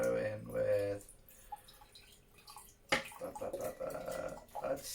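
Cider vinegar pours into a jar of vegetables being prepared for giardiniera, a soft liquid trickle and splashing that runs in uneven bursts over several seconds at close range.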